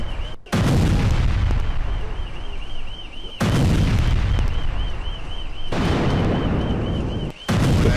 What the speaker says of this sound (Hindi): तेल अवीव की ये तस्वीरें हम आपको दिखा रहे हैं जहां पर लगातार ईरान की तरफ से मिसाइल हमले किए जा रहे हैं।